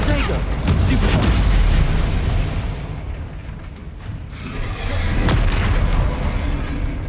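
The Bombarda spell in Hogwarts Legacy detonates with loud, booming explosions and rumbling blasts, swelling twice over several seconds within dense game action.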